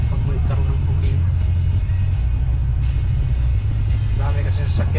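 Steady road traffic rumbles continuously, with cars passing nearby in a constant low drone as people talk over it.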